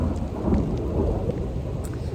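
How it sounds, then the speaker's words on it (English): Thunder rolls through a continuous, heavy rumble during a mountain hike on the John Muir Trail near Evolution Creek and Muir Pass, with steady rain falling close by. "it's thundering"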